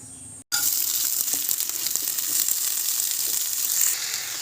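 Soaked rice for basanti pulao hits a hot frying pan, setting off a loud, bright, continuous sizzle right after a brief pause, close and steady throughout.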